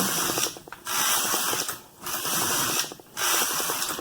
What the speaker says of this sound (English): Now let's just do some knitting.